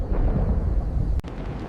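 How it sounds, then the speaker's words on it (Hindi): A thunder crash in a Hindi cartoon storm over a jungle, a deep loud rumble rolling continuously, then a sharp cracking strike followed by a lingering lower rumble. "बिजली कड़कने और बादलों की गड़गड़ाहट उसे डरा देती थी"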